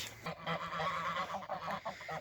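Geese honking repeatedly in a noisy cluster, several calls overlapping at moderate distance with steady background noise.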